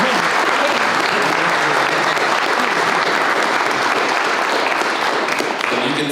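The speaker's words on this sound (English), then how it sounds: "Let's give them a round of applause." A roomful of people applauds steadily at an awards speech event, dense continuous clapping that stays loud and even throughout.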